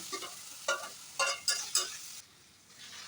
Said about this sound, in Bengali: এবার আমি ভেজে নেওয়া আলুগুলো দিয়ে দিলাম এবার সব কিছুর সাথে ভালো করে কষিয়ে নিতে হবে